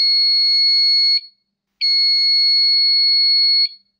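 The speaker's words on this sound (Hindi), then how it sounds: "सिर्फ एक बीप आ रही है।" A motorcycle flasher relay on a repair bench, wired to a 12-volt bulb, gives two long, loud, steady electronic beeps separated by a short silent gap.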